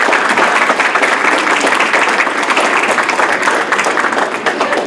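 An audience at a school student-of-the-month ceremony claps in a loud, steady round of applause for an honoree, dense and continuous throughout.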